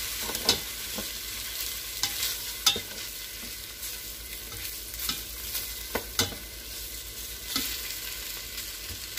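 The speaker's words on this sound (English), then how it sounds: "I'm going to sear this meat" Meat sears in a pan for carne guisao, a soft steady sizzle with occasional sharp clinks and scrapes from stirring, no voices.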